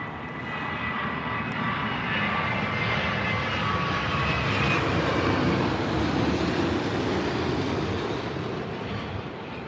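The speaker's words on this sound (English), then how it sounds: "We're just about to see the LL Boeing 787" A Boeing 787 airliner at London Heathrow roars steadily with a broad, even engine rumble and hiss that holds strong for nearly ten seconds, swelling slightly toward the middle.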